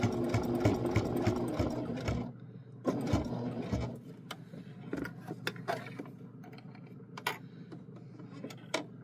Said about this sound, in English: But I am going to back stitch.